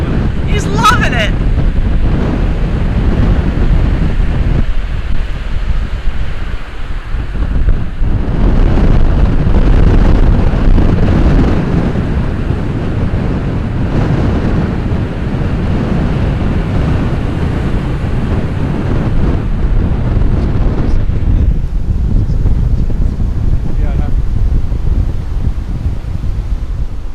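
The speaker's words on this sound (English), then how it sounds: "Wow, super breezy." Strong wind buffets the microphone at a rainy Florida beach, a steady loud roar with surf rumbling underneath throughout, and a person talks briefly near the start.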